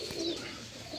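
An eight-year-old Shekhupuria pigeon coos on a Lahore rooftop loft, a close, soft, throaty call that holds steady over a light background of other birds, with no talking.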